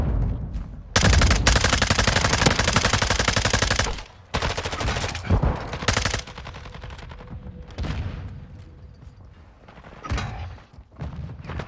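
Gunfire in the video game Call of Duty: Modern Warfare II comes as long, loud, rapid automatic bursts broken by brief pauses, then shorter, scattered volleys.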